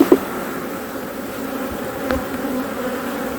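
Honey bees buzz steadily on hive frames during queen introduction, a dense close drone with a couple of faint knocks and no talk.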